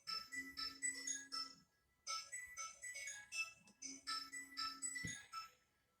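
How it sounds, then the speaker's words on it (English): A mobile phone ringtone plays in the background, a repeating electronic melody in separated bursts of chiming notes, fairly clear and unaccompanied. "My phone's ringing in the background"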